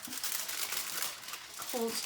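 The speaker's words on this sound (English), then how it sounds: "So you just crumple it until it looks like" Aluminium foil is crumpled slowly by hand to shape a sculpture's leg during a children's foil-sculpture art lesson. A soft, continuous crinkling runs throughout, with a brief faint voice-like sound near the end.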